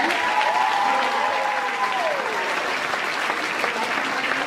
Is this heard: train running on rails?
no